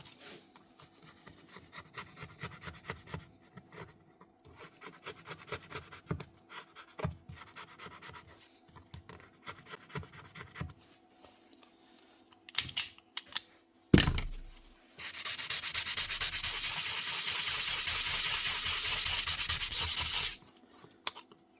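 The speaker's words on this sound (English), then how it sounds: "Quick scrape to get the gunk off, and a quick polish with a fine sanding block." Close, repeated scraping and rubbing strokes on a Paslode nail gun part, scraping off gunk, then a continuous hissing sound of polishing with a fine sanding block that runs steadily for several seconds before stopping.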